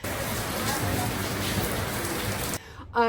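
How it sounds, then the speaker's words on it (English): Heavy rain pours down steadily on Waiheke Island, New Zealand, a dense, loud hiss of drops on surfaces that runs unbroken and then cuts out near the end, where brief voices follow. "It's pouring rain."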